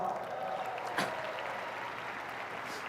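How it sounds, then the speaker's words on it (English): A large audience at a corporate training event applauds in a steady, fairly soft wash of clapping with no single claps standing out. "Let's give that a round of applause"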